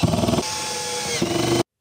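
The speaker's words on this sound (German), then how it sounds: "wie in meinem Fall können wir natürlich auch einen Akkuschrauber verwenden" Cordless screwdriver set to torque level 5 driving screws while assembling an IKEA Besta drawer; a close, loud motor whine with a pitch change midway, ending abruptly.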